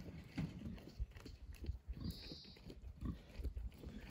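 A free-range pig shuffles about close by, giving short low grunts in irregular bursts with soft rustling steps between them.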